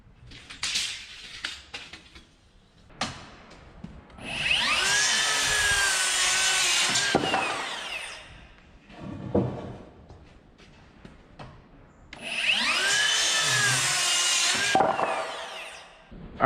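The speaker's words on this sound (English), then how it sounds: "And we got these bridge planks here," A power saw cuts through wooden bridge planks in two sustained passes of several seconds each, loud and close, separated by quieter handling knocks.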